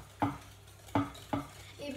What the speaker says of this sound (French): D'abord, il faut bien mélanger.